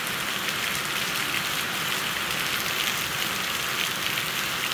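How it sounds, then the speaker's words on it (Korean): Heavy rain shower pouring down outdoors, a dense, steady hiss of drops drumming on surfaces that stays loud and unbroken throughout, with no voices. "비 내리는 거 좀 보세요"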